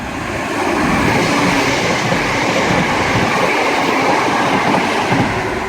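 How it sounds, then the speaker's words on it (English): A Class 170 diesel multiple unit passes through Linlithgow on the Edinburgh–Glasgow line, bound for Edinburgh from Glasgow Queen Street. It makes a loud, steady close rushing roar with wheel rumble that holds throughout, with no talk. "passing through now is going to be another 170 bound for Edinburgh from Glasgow Queen Street."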